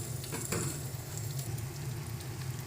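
Dried chilli powder and spices sizzle steadily in a hot pan for a home-style vegetarian paneer curry. The continuous, even frying hiss is close and unbroken, with no talking.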